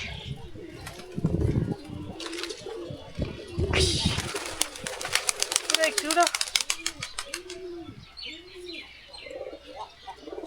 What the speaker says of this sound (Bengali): কবুতরগুলো কি করে আগে দেখি।